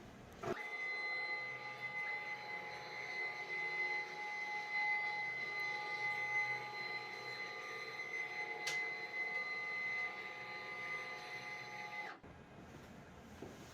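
A wood shop dust collector runs with a steady loud whine and tonal hum for about twelve seconds, with a brief knock as the machine is moved, then cuts off abruptly; no talking.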